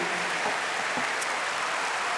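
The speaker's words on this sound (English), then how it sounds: "these teachers deserve a great big round of applause" Steady, dense applause fills a high school graduation ceremony hall as teachers are honored, sustained and even throughout with no voices standing out.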